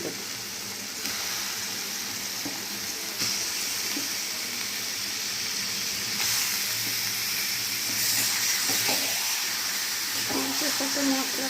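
Meat frying in a pan with spices while being stirred and mixed, giving a constant close sizzle with faint scraping of the stirring throughout; a voice talks over it.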